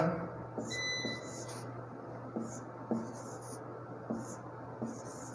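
Marker strokes on a board while numbers are written, a series of short scratchy, squeaky bursts spaced a second or so apart over a low steady room hum, close and fairly quiet, with no talking.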